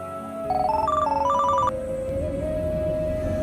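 A mobile phone ringtone plays loudly up close: a quick rising run of bright electronic tones, then a sustained tone that continues with background room sound.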